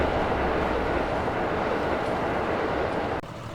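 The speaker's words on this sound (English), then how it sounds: "I've been seeing the trains." A train rolls past in Farming Simulator 19, a broad steady rumble that holds loud and even, then drops off abruptly near the end.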